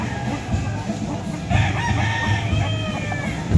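A rooster of a Sims Black bloodline at a crowded fowl market in Lipa City, Batangas, crows and clucks amid steady crowd noise and nearby voices, with other birds calling in the background.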